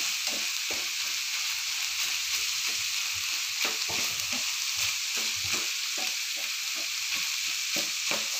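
Ground beef and pork sizzle and fry steadily in a pan, with frequent soft scraping stirs from a spatula throughout; no talking.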